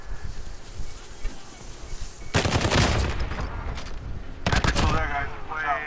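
Bursts of rapid automatic gunfire from a Call of Duty Warzone match, loud and close, arriving in two dense volleys after a quieter stretch of distant background noise.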